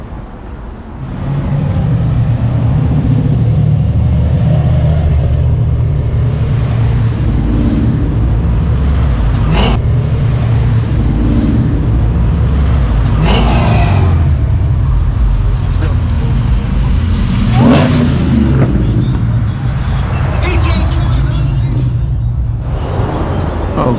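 Muscle cars rumble and idle at an impromptu roadside car show in Laguna Beach, a steady low engine drone running throughout with occasional louder bursts as engines rev, under voices and street noise.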